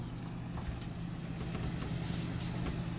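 The second air conditioner fan in a Keystone Outback Ultra-Lite 291UBH RV runs steadily, a constant low hum with broadband whooshing, close and continuous.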